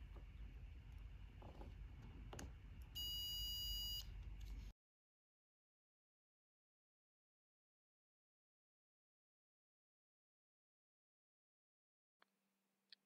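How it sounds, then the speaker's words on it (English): A continuity-test buzzer sounds while a circuit node is probed in an electronics lab: one loud, steady electronic buzz lasting about a second over low background hum, followed by near silence with a few faint clicks. "We should hear a buzzer sound."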